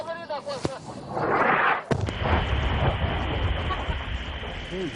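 An airstrike bomb hitting a Taliban position, a heavy distant boom partway through followed by a long rumbling roar, with voices and radio talk in the field around it.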